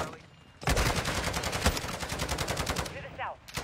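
Sustained automatic gunfire in Call of Duty: Modern Warfare II, a loud, evenly spaced stream of rapid shots lasting over two seconds, then stopping abruptly and leaving quieter background sounds.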